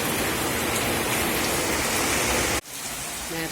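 Steady summer rain pours down in Kerala, a dense, even hiss of drops on surfaces that cuts abruptly near the end and resumes slightly softer.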